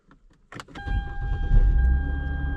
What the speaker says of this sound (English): Let me turn on the car.